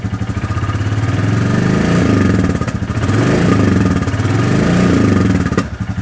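A Royal Enfield Classic 350 motorcycle engine runs steadily at idle, a loud, close, rhythmic thumping with strong vibration and clatter and slight swells in pace, heard alone.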